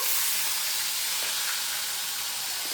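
Fish fries in a pan with a steady, close, unbroken hiss of sizzling oil and no talking.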